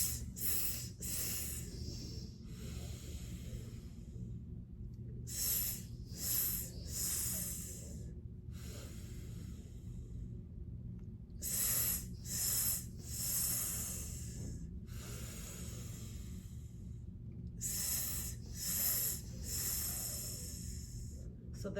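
Slow, deep breathing during a seated spine exercise on the edge of a chair, with several long breathy airflow sounds in clusters separated by quiet pauses, close to the microphone.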